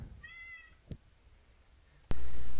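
A kitten gives a single clear, high meow near the start, followed by a soft tap and quiet room tone before a sudden burst of loud broadband noise cuts in at the end.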